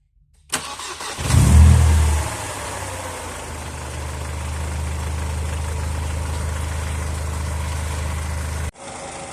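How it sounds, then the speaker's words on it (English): A Mercedes-Benz W203 C180 with the M111 engine cranks and starts, then settles into a steady, close idle with a low, even hum. The car also has a noisy power steering pump. No one speaks. "Okay, so I'm letting the engine idle now for about 5 to 10 minutes"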